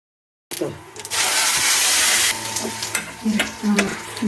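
Spices tempering in hot oil, breaking into a sudden loud sizzle after a short silence, then easing into lighter crackling and a few stirring knocks.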